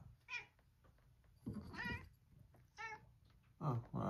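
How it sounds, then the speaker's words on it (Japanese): A cat meows outdoors near a house, giving several short, separate calls close by with quiet pauses between them. "猫ちゃんどこ行った？ あっち行った？"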